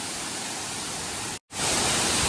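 Nhavankond waterfall at Talwa, Devgad, pours in a steady, loud broadband rush that cuts out for a split second and then returns even stronger, with no voices.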